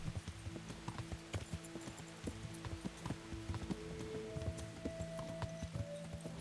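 Rhythmic clip-clop of a galloping horse's hooves at a quick pace in the video game Kingdom Come: Deliverance, steady and fairly close, with a faint whinny and tonal game music underneath.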